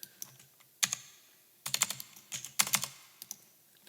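Bursts of key presses on a computer keyboard as numbers are typed in, close and fairly quiet, coming in three clustered runs of rapid clicks separated by short pauses, with no talking.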